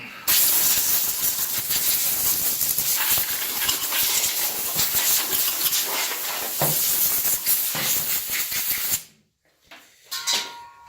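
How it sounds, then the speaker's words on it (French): A compressed air blow gun sends a loud, steady hiss over a DCM575 chainsaw for about nine seconds, roughing slightly as the nozzle moves, then cuts off to near silence with a few small clatters. "On va mettre un coup de soufflette aussi vite fait."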